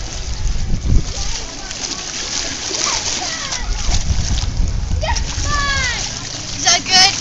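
Water splashes and sloshes as someone tries to walk on water at a luau-themed gathering, loud and close with bursts of splashing under frequent talk and children's voices.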